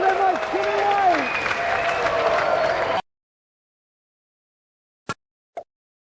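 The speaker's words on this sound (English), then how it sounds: "Another round of applause, thank you very much, Jimmy White!" Crowd applause from the Amiga snooker game Jimmy White's Whirlwind Snooker, a steady dense clatter of clapping for about three seconds that cuts off abruptly, followed by silence and two brief clicks.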